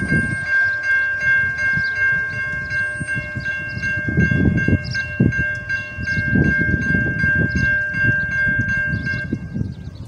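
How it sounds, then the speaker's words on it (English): Trains running through Wauseon, Ohio, a loud nearby rumble with rolling wheel-on-rail clatter and surges, sustained horn tones sounding above it for the whole stretch. "Train!"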